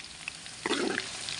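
Ginger frying in hot oil for a Kerala mango pickle, a soft hiss that swells into a denser sizzle partway through, close and steady with no talk.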